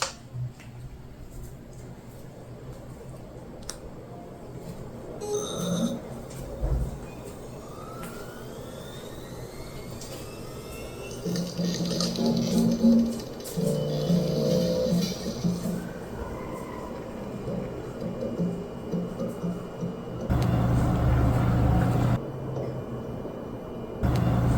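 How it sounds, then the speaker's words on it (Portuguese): NAS hard drives spinning up at power-on produce a fluctuating mechanical whir and hum with occasional clicks and shifting tonal swells, steady and fairly close, with no talking. "na hora de ligar ele faz sim um certo barulho, que são dos HDs"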